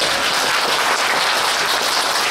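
A seminar audience applauds after a talk, dense continuous clapping from many hands that stays loud and even from start to finish without any voices.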